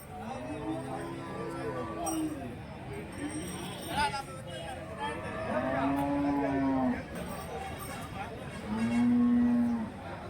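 A calf at a busy cattle market in Krishnagiri district moos three times in drawn-out, tonal calls, with crowd babble and chatter in the background.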